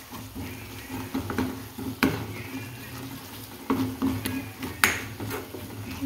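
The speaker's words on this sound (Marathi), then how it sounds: "यात मी आता हे बेसन पीठ टाकून घेणार आहे आणि मस्त फास्ट पटपट पटपट हलवून घेणार आहे, छान परतणार आहे" Gram flour roasts in oil in a wok while a spatula stirs it quickly, giving close, repeated scraping and knocking strokes against the metal over a soft frying hiss.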